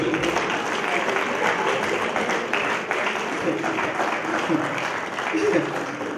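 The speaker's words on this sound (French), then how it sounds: "Est-ce que quelqu'un peut donner une main d'acclamation pour nous?" An audience at a church sermon applauds in a steady, dense wash of clapping that lasts throughout, with a voice speaking over it.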